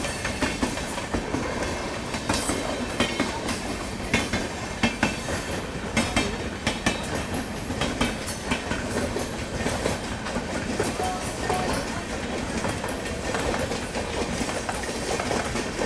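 A moving Jansadharan Express passenger train on the Danapur to Anand Vihar route, with a continuous rumble and rhythmic clickety-clack of wheels over rail joints that sounds close and fairly loud for the whole stretch, with no voices.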